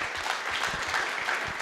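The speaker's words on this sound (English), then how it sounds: "Give him a round of applause." Audience applause for a panelist at a Drupal conference keynote panel, a brief, moderate burst of many hands clapping with no voices over it.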